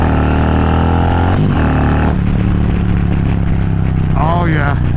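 Harley-Davidson Silverback Road Glide performance bagger with a new clutch pulling away hard in first gear, a loud close engine roar with rising harmonic pitch and a brief shift, heard with wind noise throughout.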